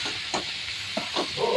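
Onion cooks in a pan with turmeric, chilli powder, coriander powder and garam masala, a soft steady sizzle broken by a few quick stirring scrapes close by.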